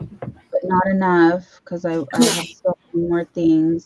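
A single sharp sneeze bursts out in the middle of a relaxed home conversation, with a person talking before and after it at close range.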